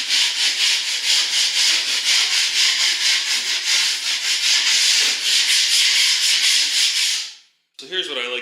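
Steady dry rasping scrub of a sanding sponge working over dried drywall joint compound, continuous and close for about seven seconds before stopping abruptly, followed by a brief shuffle.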